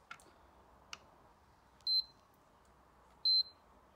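A multimeter in continuity mode tests a diode from a yacht's battery charging system: two clear, steady high-pitched beeps about a second and a half apart, each following a faint click of probes touching.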